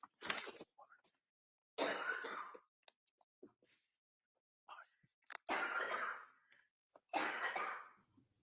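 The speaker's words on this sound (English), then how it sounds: "Who's coughing to death?" Several separate coughs burst out in short, harsh fits in a courtroom during a trial, spaced a second or two apart, with quiet breaths and small noises between them.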